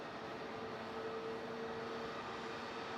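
A Qantas jet on approach to land on runway 16 at Melbourne Airport, heard as a steady, moderately loud broadband engine roar with faint tonal whine running throughout, no voices.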